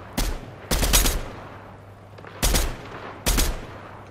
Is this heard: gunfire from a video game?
yes